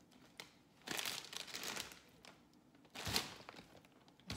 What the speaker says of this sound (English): Put them in this plastic bag, Ziploc bag.